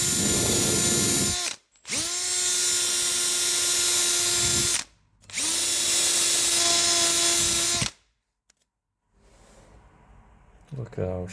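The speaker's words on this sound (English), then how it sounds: "Get in there with a wire brush and the drill." A power drill fitted with a wire brush cleans the brake caliper of a VW Mk2 Caddy. It whirs loudly and steadily in three long bursts with short pauses, then goes quiet and some faint handling noise follows.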